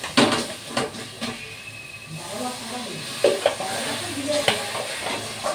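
Water goes into a pan of capsicum cooking on the stove, with loud close sizzling and hissing, scraping stirs and a few sharp clinks of utensils against the pan.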